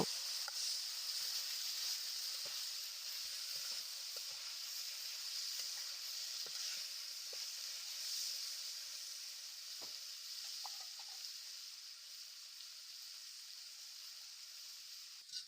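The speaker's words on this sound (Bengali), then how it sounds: "পেঁয়াজ কুচি দিয়ে দিব এখানে আমি একটি পেঁয়াজ নিয়েছি তোমরা চাইলে আরও বেশি নিতে পারো এবার আমি দশ মিনিটের মতো এটাকে ভেজে নিব" Chopped onion frying in a pan, a steady bright sizzle with scattered small pops and crackles, close and continuous with no talking.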